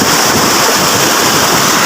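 Strong floodwater from heavy rain rushes in a loud, steady, broadband roar that fills the whole clip, with no pauses or talk.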